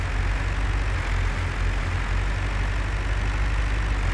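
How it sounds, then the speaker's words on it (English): A Massey Ferguson tractor engine in Farming Simulator 22 runs with a steady, loud, low drone and a constant throb, with no change in pitch. "I was going to say the engine sounds on the Massey might be a little bit nicer too"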